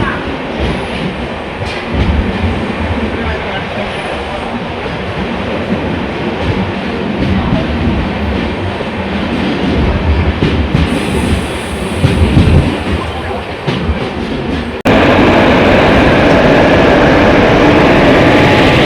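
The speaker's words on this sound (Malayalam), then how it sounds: "ട്രെയിൻ അങ്ങനെ ഇവിടുന്ന് എടുത്തു കേട്ടോ" A 16348 Thiruvananthapuram Central Express made up of new LHB coaches pulls away from Kanhangad, with loud rolling rumble and rail clatter running throughout and a sudden harsher wash of noise for the last few seconds.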